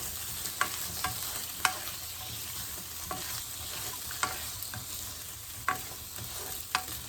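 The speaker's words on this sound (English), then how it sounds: "Chili, tomato, onion, everything is been roasted nicely as we wanted" Kashmiri red chilies, tomato and onion roasting in a pan for chutney, a soft continuous sizzle with periodic clicking stirs of a spoon at irregular intervals, close and quiet, no voices.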